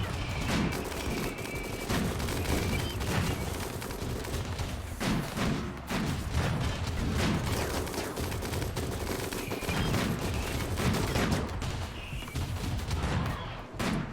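Dense, relentless gunfire in the colony game RimWorld as a mech hive is fought, with continuous overlapping shots and booms filling the whole stretch, loud and unbroken.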